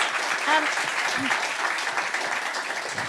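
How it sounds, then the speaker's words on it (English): Audience applause at a student founder showcase, a steady wash of clapping across the room for about three seconds, with a brief voice cutting through near the start. "Big round of applause."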